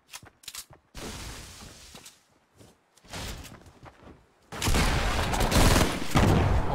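Gunfire in a Fortnite duos match: a few sharp shots at first, then quieter gaps, then a loud, sustained barrage of rapid fire close up, with no voices.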